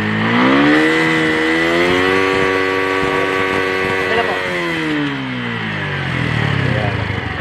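A Keeway R152 motorcycle engine runs steadily at a low, even pitch between 1,000 and 2,000 RPM, loud and close, with a voice speaking briefly over the hum.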